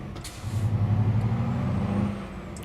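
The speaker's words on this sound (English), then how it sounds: "It's like the emergency braking system." A truck's emergency braking system engaging in American Truck Simulator: a loud hiss of air brakes over a low rumbling engine, steady for about two seconds before easing off.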